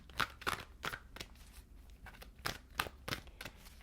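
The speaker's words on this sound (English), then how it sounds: "I'm going to shuffle and pull the cards" Tarot cards are shuffled by hand in a series of quick, papery riffling bursts, about eight in under four seconds, close and crisp with brief gaps between them.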